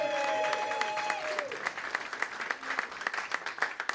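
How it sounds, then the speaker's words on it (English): Members of the Whitestone Republican Club applaud at their March meeting; a voice trails off over the opening moment as scattered, moderately loud clapping follows. "let's hear it for the Whitestone Republican Club. Round of applause"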